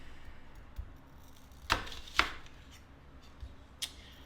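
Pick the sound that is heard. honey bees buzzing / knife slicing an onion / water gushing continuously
knife slicing an onion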